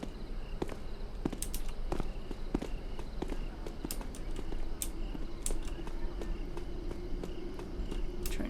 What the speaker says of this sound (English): Your footsteps are louder when you run and when you cross over loud floor surfaces such as metal.